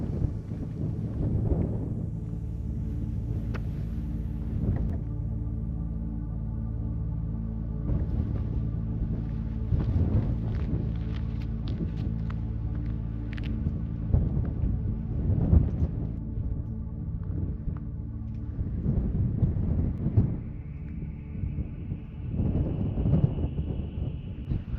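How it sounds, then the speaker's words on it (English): Strong mountain wind gusts roar steadily against the microphone high up near a trail's end, a deep continuous rumble with swelling bursts as a storm blows in, and no voices. "it is windy up here"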